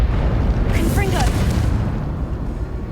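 A Confringo fire spell bursts in Hogwarts Legacy inside a haunted Hogsmeade shop, a single booming blast with a brief crackling sweep over a dense, rumbling game soundscape.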